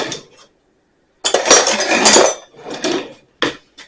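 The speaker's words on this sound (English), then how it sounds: "And then we're going to get a serrated knife." A serrated knife is picked up from among metal kitchen utensils, producing loud close clattering and clinking in a couple of bursts separated by silence.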